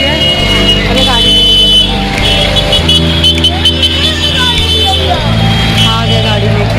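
A car pulls up near a home with a steady engine hum and a couple of abrupt shifts in tone as it slows and settles, loud and close, while someone speaks over it.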